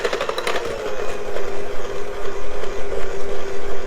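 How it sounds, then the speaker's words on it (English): A KitchenAid stand mixer beating cream cheese and sugar, a loud steady motor hum with a rhythmic pulsing churn as the beater turns, close and continuous with no talking. "So now I'm just mixing the cream cheese and the sugar together."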